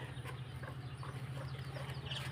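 A hen leading her chicks near a village mosque clucks softly and intermittently, faint and somewhat distant over a steady low mechanical hum.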